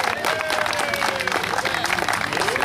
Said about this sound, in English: Ladies and gentlemen, have a round of applause for Steve Kelly with us today